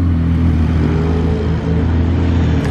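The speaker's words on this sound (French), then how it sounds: "il y a la 720S Spider qui arrive" A McLaren 720S Spider sports car with a removable two-tone roof arrives on a Monaco street, its engine a loud, steady, close rumble throughout with no voices.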